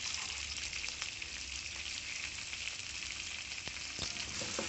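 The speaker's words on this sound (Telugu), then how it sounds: "ఇదే ప్యాన్లో ఆయిల్ వేడెక్కిన తర్వాత సగం కట్ట పుదీనా, సగం కట్ట కొత్తిమీర వేసుకొని బాగా వేపుకోవాలండి." Mint and coriander leaves sizzle hard in hot oil in a pan, a loud, dense, continuous crackle with a few stirring scrapes.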